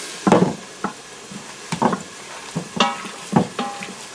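Food sautés in an Instant Pot while spaghetti and meatballs are made, with intermittent bursts of stirring and scraping over a faint sizzle, close up and without talk.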